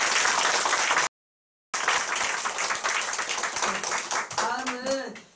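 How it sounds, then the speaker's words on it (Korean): An audience applauds in thanks at a group meeting, the sustained clapping filling the room before and after a brief gap and fading toward the end as voices and cheers rise over it. "감사의 박수 부탁드리겠습니다"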